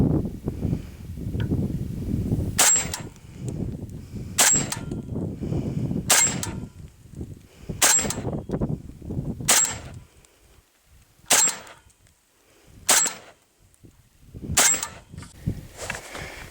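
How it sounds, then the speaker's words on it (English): An AK-pattern rifle fitted with a Manticore flash suppressor fires ten rounds outdoors, sharp loud cracks spaced evenly about every second and a half, with wind noise in between. "the Manicore flash suppressor, 10 rounds, going hot"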